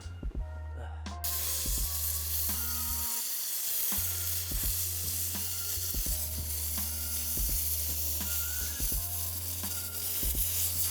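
Compressed air blasts in short hissing bursts to clear dirt and rocks from under the cage of an Air Jordan 5 sneaker, over a steady loud mechanical hum with clicks and rattles throughout.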